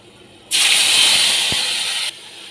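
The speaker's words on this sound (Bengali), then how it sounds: "সর্ষে বাটাটা আর কাঁচা লঙ্কা বাটাটা এবার আমি তেলের মধ্যে দিয়ে দেব।" Mustard paste and green chili paste hit hot oil with a sudden loud sizzling hiss that holds for about a second and a half, then cuts off abruptly, close and alone.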